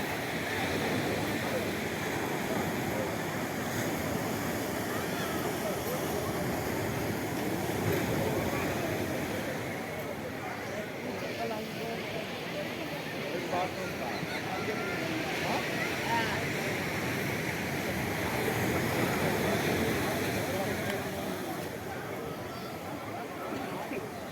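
Sea waves wash continuously onto the shore in a steady surf wash, with faint crowd chatter from people nearby mixed in throughout.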